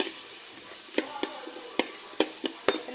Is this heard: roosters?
no